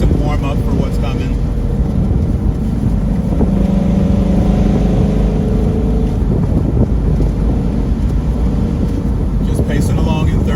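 A Chevrolet Camaro engine pulling steadily in third gear on the winding Tail of the Dragon mountain road, a constant loud drone mixed with wind noise, while someone talks over it.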